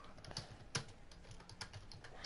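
Someone types quickly on a computer keyboard while playing Rocket League, giving a quiet, close, steady patter of key clicks with a few sharper strokes and no talking.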